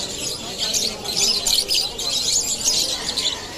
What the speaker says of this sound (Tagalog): Mga ibon po ni Boss Marvin yan